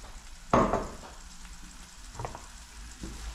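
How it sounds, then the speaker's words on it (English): A spoonful of garlic and ginger in olive oil sizzles steadily in a pan, with a sharp crackling burst as it hits the hot oil, then continued frying hiss and a few stirring scrapes. "Already it's sizzling up."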